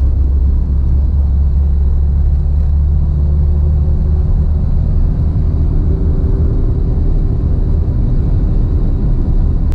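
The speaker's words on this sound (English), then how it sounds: "That's taking off in second gear right there." A low-geared vehicle pulls away in second gear, a loud, steady, deep engine and road rumble from inside the cab, with no voices.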